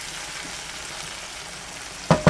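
Canned Rotel tomatoes hit a hot pan of sautéed onions, giving a steady low sizzle that flares into two sharp bursts of frying near the end.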